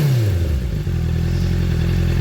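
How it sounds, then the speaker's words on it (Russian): A warmed-up Honda 650F motorcycle engine with a new exhaust, heard close as the revs drop from a falling whine into a steady low idle rumble with faint clatter. "сейчас уже движок прогрелся, чуть круг сделал, но звук намного приятнее"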